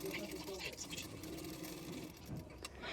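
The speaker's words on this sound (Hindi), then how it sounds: "उसी के किनारे किनारे पे मैं सिलाई करूँगी।" A sewing machine stitches along the neckline edge of blouse fabric, a quiet steady mechanical whir with a faint rhythmic patter, and a voice is heard talking over it.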